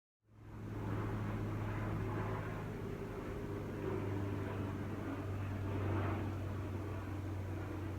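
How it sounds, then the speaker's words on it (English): A steady, continuous drone of an airplane passing overhead fades in at the start and holds at a moderate, distant level throughout, with no speech. "Just waiting for the plane to fly overhead"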